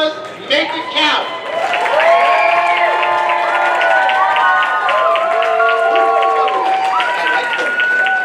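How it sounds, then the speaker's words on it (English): Audience at a kids costume contest breaks into applause and cheering; a thick crowd wash is layered with whistles and children's shouts, loud and sustained after a short start. "One last round of applause. Make it count."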